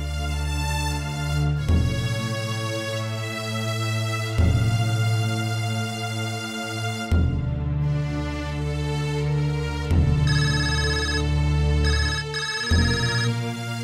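A telephone rings with a tonal electronic ringtone, repeating in regular bursts about every three seconds, loud and close with no talk over it.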